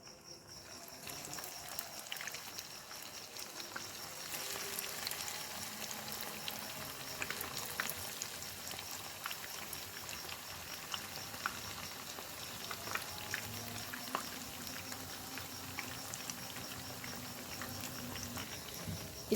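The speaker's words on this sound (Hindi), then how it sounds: "कबाब जो है वो तैयार हो चुके हैं, अब इसको फ्राई करेंगे" Potato kebabs, hash browns, frying in oil over medium heat, a soft, steady crackling sizzle with fine spattering pops, fairly quiet and continuous.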